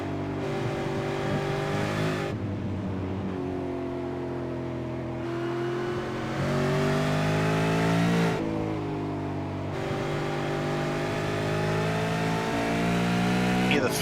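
A V8 race car engine revs hard through the Suzuka S curves, pitch rising and dropping with throttle lifts and gear changes, loud and continuous under a commentator's voice.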